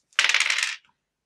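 Dice from the Quarriors board game are rerolled, making a single dense clattering rattle for about half a second, close and fairly loud, then silence.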